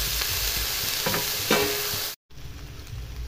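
Onion and tomato pieces sizzling in hot oil for paneer masala curry, a dense continuous close hiss with a few stirring scrapes, cut by a brief silent gap before the frying resumes more quietly.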